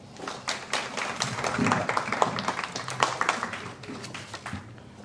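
An audience applauds to welcome a young poet from Mayotte to speak, a dense, steady patter of many hands clapping nearby for several seconds, swelling slightly in the middle.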